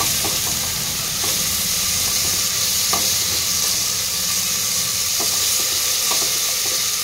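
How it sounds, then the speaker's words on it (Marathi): Ginger garlic paste sizzling and frying in a pan for chicken biryani, stirred with a spoon, giving a steady loud hiss with scattered clinks and scrapes throughout, no talking. "1 चमचा अद्रक लसणाची पेस्ट टाकून घेऊया। व्यवस्थित मिक्स करून घ्यायचंय।"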